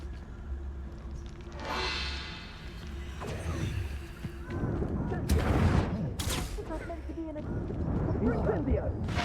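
Incendio fire spells cast in a video game, whooshing fiery bursts and booming blasts coming in quick succession amid loud combat noise.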